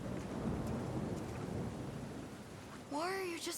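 Rain hisses steadily with a low thunder rumble underneath in the video game Unicorn Overlord, then a voice briefly begins to speak at the end.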